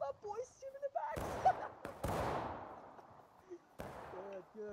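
Civil War musket shots in War of Rights, two or three sharp cracks with lingering echoing tails, amid shouted voices and distant chatter.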